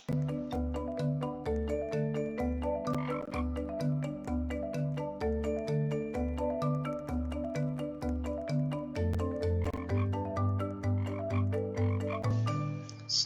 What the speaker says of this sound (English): Is that a frog?